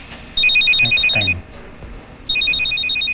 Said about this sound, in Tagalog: Cellphone mo, nag-ring, oh.